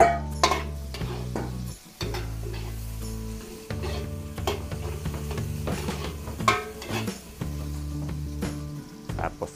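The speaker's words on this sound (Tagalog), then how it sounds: "Lagay na tayo ng sibuyas." Onion frying in a pan with already browned garlic for a Filipino pork, beef and noodle dish sizzles steadily up close alongside repeated stirring scrapes, over a low steady tonal hum, with no talking.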